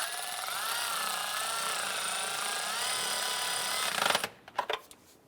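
A power ratchet whirs steadily as bolts are snugged down on the variable valve timing solenoid of a 2000-2006 Toyota Tundra, a continuous wavering whine for several seconds that stops, followed by a few sharp metallic clicks.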